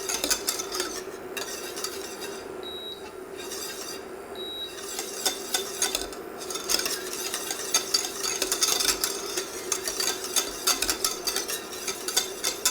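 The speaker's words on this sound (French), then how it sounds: "on mélange en continu pour éviter que ça accroche au fond de la casserole" A saucepan of exotic fruit confit with gelling agents added is stirred continuously with a utensil, giving steady scraping and soft bubbling sizzle with faint clinks, close and moderately loud with no talking.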